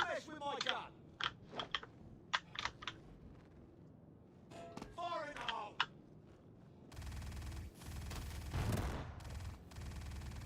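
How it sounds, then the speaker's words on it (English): Gunfire rings out in the Star Citizen video game as a player is shot at while hunting for armor. A quick series of sharp cracks comes first, then a steady, dense roar of noise. "So they're shooting at me, but they're not going to be able to hit me."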